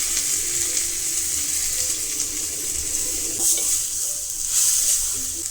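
Grated coconut fries in melted ghee in a pan, giving a steady, bright sizzling hiss with a few soft bumps as it is stirred.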